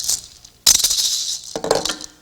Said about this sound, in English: the vibra-slap